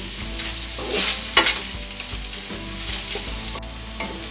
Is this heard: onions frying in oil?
yes